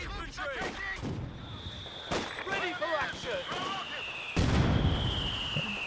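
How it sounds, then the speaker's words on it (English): Artillery barrage in the Company of Heroes 2 strategy game: several heavy booming impacts spaced across a few seconds, the last one loudest, amid steady battle noise and chirpy effects, with a commentator talking over it. "now using the barrage, but he's already jumped out of the building"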